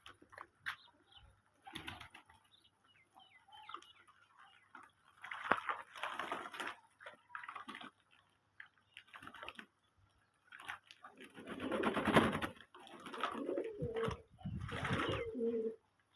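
Native domestic pigeons coo in soft, repeated bursts at close range, with several louder clustered calls and occasional rustling between them, and no talking.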